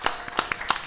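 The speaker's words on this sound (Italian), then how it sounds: "Quindi un applauso a Pippo Caruso." A few scattered hand claps at a record-label presentation event, sparse and uneven, about five distinct claps in under a second at modest volume.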